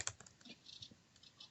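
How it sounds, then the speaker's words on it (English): Quick bursts of light keystrokes on a computer keyboard as a destination is typed in, faint and close, with short clicks in uneven clusters and brief pauses. "I'm going to type in my home destination again"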